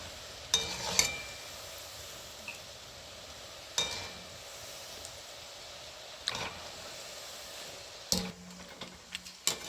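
Peanut bhajiya frying in hot oil, with a steady low sizzle under sharp intermittent clinks and scrapes of a utensil stirring in the pan, no talking.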